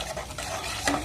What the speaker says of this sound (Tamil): சும்மா ஒரு கிண்டிட்டு